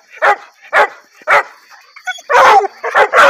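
Several loud hunting dogs bark in quick bursts nearby in the woods, a sharp repeated volley with a brief yelp between.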